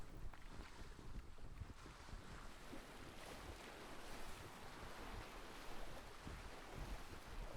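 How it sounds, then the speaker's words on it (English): A ship sails at sea in the video game ATLAS, with a steady, faint wash of water and wind rushing past the hull. The sound is continuous, with no voices. "Sailing between regions could be the slowest part of the game"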